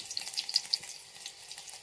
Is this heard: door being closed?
no